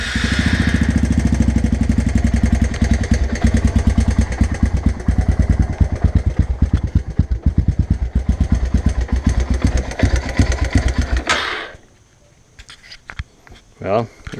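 A Honda 300 Fourtrax ATV engine with a 317 big-bore kit and a valve needing adjustment runs loud and close with a rapid, slightly uneven chugging beat, then cuts off to near silence with a few clunks.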